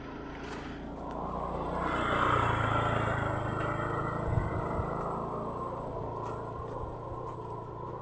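Engine of a passing motorcycle on a rural road, a mid-pitched drone that swells toward the middle and fades, fairly close, with outdoor background noise and no talk.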